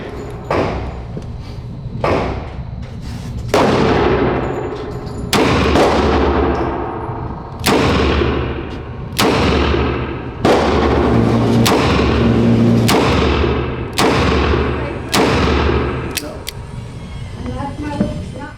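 Handgun shots fired at a shooting range, about a dozen loud, sharp reports at a fairly steady pace, each one ringing out briefly, with voices talking between some of the shots.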